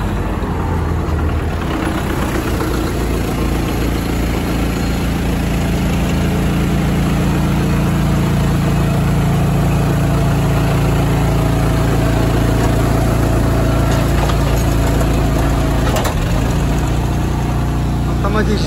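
Tractor-driven bale wrapper wrapping round clover bales on a dark autumn evening, a loud steady engine drone with mechanical whirring throughout, continuous and close.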